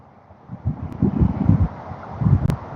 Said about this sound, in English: The wind's kind of kicking up on me here, so sound may be a little tough to hear.